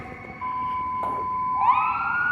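An emergency vehicle siren from a responding fire engine and medic unit, a steady tone that rises into a sweeping wail partway through, fairly close and loud over background traffic.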